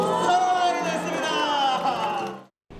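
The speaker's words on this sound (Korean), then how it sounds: "곳곳에서 펼쳐지는 거리 공연에 환호성이 터집니다." A crowd cheers at street performances on Jamsu Bridge over the Han River, a loud sustained roar of whoops and shouts from many people that cuts off abruptly near the end.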